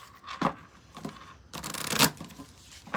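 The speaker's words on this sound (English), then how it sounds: "Okay, I'm going to shuffle one more time." A deck of cards being shuffled close by, with a quick riffle near the start, a couple of softer passes, then a longer, louder riffling burst that swells and then fades, with no talking.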